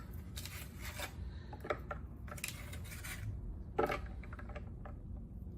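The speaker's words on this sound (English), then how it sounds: "Final 2 steps, we're gonna add in ice." Ice goes into a pumpkin spice latte with a few faint clinks and rattles of cubes against the glass, the loudest near the end, over quiet room noise.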